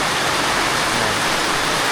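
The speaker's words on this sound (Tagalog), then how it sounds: "Sana ay yan ang ulan, no? Lakas na." Heavy rain pours down as Typhoon Tino approaches, a loud, dense and unbroken hiss filling the whole moment with no voices.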